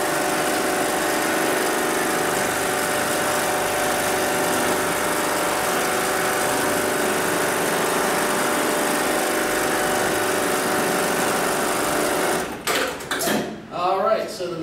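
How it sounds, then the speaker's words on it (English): An industrial sewing machine stitching a box X pattern on nylon webbing whirs loudly and steadily at close range, then stops abruptly near the end, followed by brief clatter and movement. "I'm going to go ahead and tap the pedal on the left-hand side. That's going to initiate the sewing cycle."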